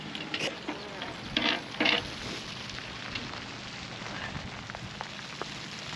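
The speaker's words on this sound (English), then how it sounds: "right now it's raining in the lounge" Rain leaks into the lounge of an old cruising boat, a steady close patter of drips and splashes with a few louder bursts, heard without talking.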